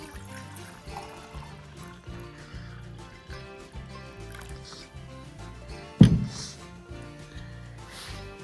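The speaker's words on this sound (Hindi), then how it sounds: "ये पानी डालते हैं।" Water is poured into a steel glass over a quiet bed of background music, a soft trickle with a sharp metallic clink partway through.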